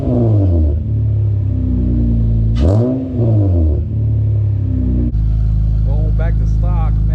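A stock J37 V6 in an Acura TL SH-AWD runs at a cold-start high idle, close and loud, with one brief rev that swells and settles back to a steady drone.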